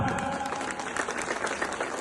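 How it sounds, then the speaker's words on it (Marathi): Audience clapping at a public Ganesh festival gathering, a brief burst of dense applause from a crowd, with faint voices underneath. "एकदा जोरदार टाळ्या"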